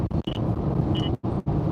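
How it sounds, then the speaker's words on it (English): Two short high electronic alert beeps from a radar detector sound about a second apart over the steady rumble of a moving Saleen car. "that noise is the radar detector telling me that the fuzz is about"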